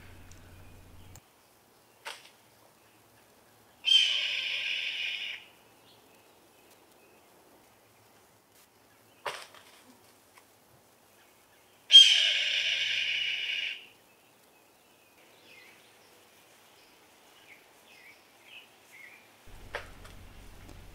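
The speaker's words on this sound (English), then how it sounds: "the red-shouldered hawks that live in my backyard" Red-shouldered hawk chicks calling in a backyard: two drawn-out, high, piercing cries separated by long quiet stretches, with a few faint clicks and rustles between them.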